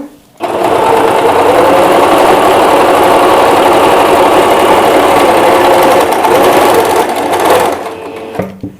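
A sewing machine stitching fabric in a straight line, its motor running loud and close in one continuous steady whir for about eight seconds before slowing and stopping.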